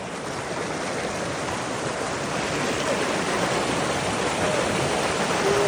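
Rushing river water roars continuously near Sunderbani in Rajouri, a dense steady wash of fast-flowing noise with no voices.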